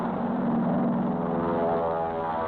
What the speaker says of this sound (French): L'avion d'accompagnement évolue sans cesse au profit de la troupe qu'il protège.